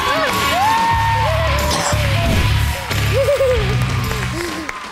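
A game show studio audience cheers loudly with whoops, hoots and yells over clapping, a continuous, close, energetic crowd noise.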